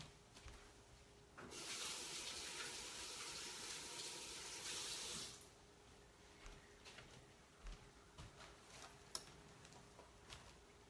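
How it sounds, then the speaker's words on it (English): Tap water gushes steadily into a kitchen sink for about four seconds while hands are rinsed, then stops, leaving faint drips and small handling knocks in a quiet room. "Let me rinse my hands real quick."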